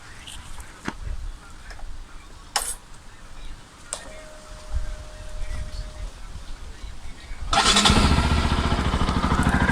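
A Bajaj Pulsar RS 200 motorcycle has a quiet stretch with a few clicks and a brief tone, then its engine fires up and idles loudly and steadily close by.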